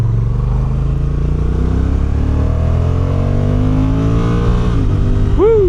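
2025 Honda NT1100 DCT motorcycle engine accelerating hard through rising revs, loud and close, with the pitch climbing steadily before a quick gear change at the end.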